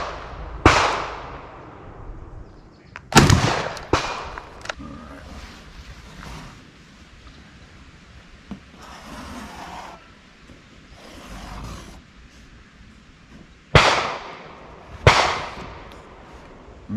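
Shotgun blasts of buckshot fired at 20 yards from a Beretta 1301 Tactical LE or IWI Tavor TS-12, loud sharp reports in clusters: two close together near the start, a pair a few seconds later, then two more near the end, with quiet ringing gaps.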